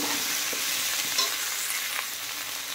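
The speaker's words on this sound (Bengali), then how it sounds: "দিয়ে নেড়ে চেড়ে একটু কষিয়ে নেব।" Ridge gourd, pointed gourd, potato and pumpkin stir-fry in a pan with a constant close sizzle and a few soft scrapes of stirring, without any talk.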